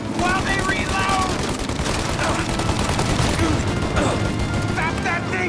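Shootout in Mafia: Definitive Edition, dense overlapping gunfire with rapid shots, impacts and crashes filling the whole stretch, loud and close while voices shout over it.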